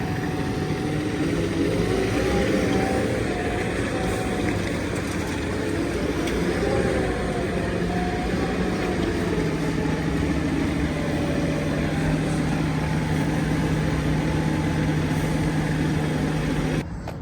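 A tractor engine runs steadily nearby, a low continuous rumble with a droning hum that holds unchanged throughout.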